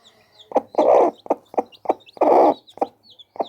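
A hen clucks loudly and close by in a short series of sharp clucks, with two longer drawn-out calls between them. No other sound competes with it.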